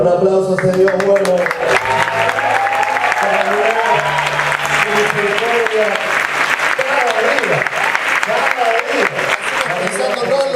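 A church congregation at a national youth leaders' summit claps steadily and loudly throughout, the rapid clapping mixed with sung music and voices.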